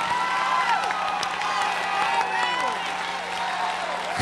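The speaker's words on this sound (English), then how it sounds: "Somebody give the Lord a clap and a shout like you can." Church congregation clapping and cheering during a sermon, a dense crowd roar of applause and shouts with a voice calling out over it throughout.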